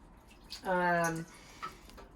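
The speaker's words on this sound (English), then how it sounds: "all I need to do is take the solids out. And how I'm doing that is with a colander and a bowl." Liquid from bone broth pours briefly through a colander into a bowl, a short splashing burst in a quiet kitchen with faint sounds around it.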